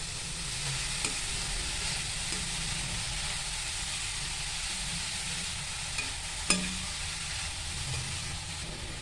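Grated carrots sauté in a pan for carrot halwa, a steady close sizzle with faint stirring scrapes and an occasional sharp clink of the spoon against the pan.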